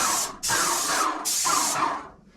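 A Graco X5 airless paint sprayer sprays paint while painting a sun room: two long, loud, close hissing bursts separated by a brief break, fading out at the end, with no talking.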